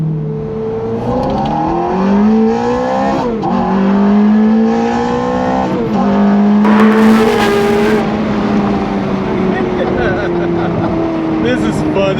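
A Ferrari F430 Coupe engine heard from inside during a ride, revving up and shifting through gears with rising and falling tones, loud and close, with a brief sharp burst near the middle.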